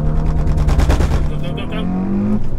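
Hyundai i20N hot hatch launching under launch control, a loud, close engine roar sweeping through hard acceleration with rising and shifting tones, heard alone without talk.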